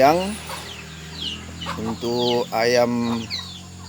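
Meat chickens cluck and squawk close by in a burst of rapid, throaty calls, with a voice faintly in the background.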